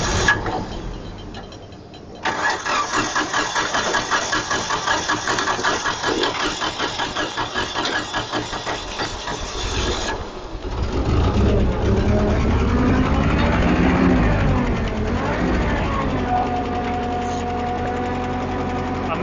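A small engine run with the choke on starts up and holds a steady, buzzing idle. Partway through, the pitch and tone shift into a rougher, rising and falling rev with a whining tone that keeps going to the end.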